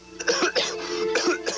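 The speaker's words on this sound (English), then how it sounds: "When the uncontrolled cough shakes up your system." Coughing in a cough medicine advert: a person gives several harsh, close, uncontrolled coughs in quick succession, with a short pause between two bursts and no other voices.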